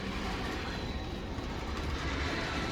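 An N scale model train runs along a layout track that needs cleaning, giving a steady close whirring rattle and faint clicking that continues evenly without pause or talk.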